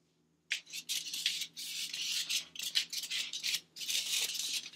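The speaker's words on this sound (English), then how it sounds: "instead of using paint brushes today, we are going to be painting with Q-tips" Cotton swabs dabbing and rubbing paint across a bumpy textured surface in a preschool art session, producing close, soft scratchy strokes in quick irregular bursts with brief pauses between.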